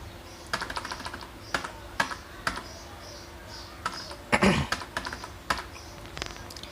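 Keys on a computer keyboard being pressed, Ctrl+V then Enter: a series of crisp, close clicks, spaced irregularly, with one heavier burst of clacks partway through over a faint background hum.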